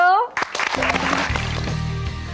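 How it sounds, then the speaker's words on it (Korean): A studio audience on a Korean TV health talk show applauds to welcome a doctor guest. The dense clapping swells in after a brief musical tone and carries on steadily over a bed of show music. "큰 박수로 맞아주십시오"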